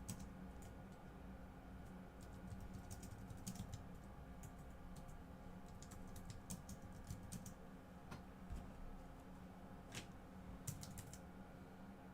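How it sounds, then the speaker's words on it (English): Rapid typing on a computer keyboard runs steadily for about twelve seconds, with a fairly quiet, continuous patter of key clicks and no talking. "Let me get my keyboard over here."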